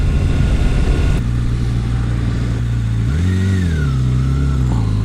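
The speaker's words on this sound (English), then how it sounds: "That van didn't really stop for that four-way stop" A van rolls through a four-way stop, its engine droning and briefly revving as it passes close by, heard alongside a steady idling motorcycle engine and wind rush.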